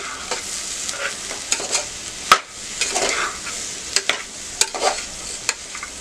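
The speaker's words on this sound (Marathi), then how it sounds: "तांदूळ घालूया." Soaked rice is stirred and fried in a pan for masale bhaat, with steady sizzling broken by repeated scraping strokes of a spoon against the pan, close and fairly loud, with no talking.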